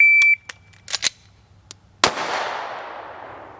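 At a shooting range, a firearm fires a single loud, sharp shot with a long, echoing tail, preceded by a brief beep and a few faint clicks.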